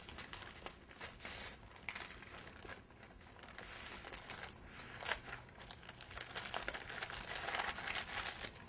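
A package of phyllo dough being unrolled, crisp crinkling and rustling of plastic wrap and pastry sheets, close and steady with scattered louder crackles throughout.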